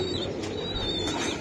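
Racer pigeon cooing softly close by, a low continuous murmur of coos with faint bird chirps over steady background noise and no talking.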